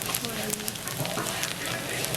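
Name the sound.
anchovies frying in butter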